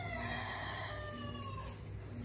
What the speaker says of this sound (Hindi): यार ये मुर्गा बड़ा तंग करता है